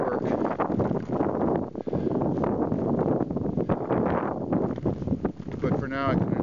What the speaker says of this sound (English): Kind of heading into the wind again.